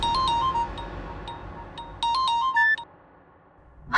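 A phone ringtone repeats its short electronic melody in bursts, pausing between rings and then stopping, with the call left unanswered.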